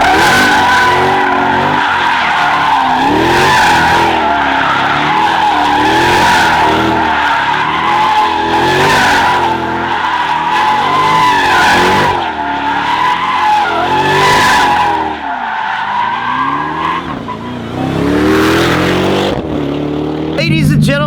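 Tires skid and squeal continuously as a Jeep Grand Cherokee Trackhawk, all-wheel drive, drifts at over 100 mph, with engine roar underneath; loud and sustained, with voices talking over it.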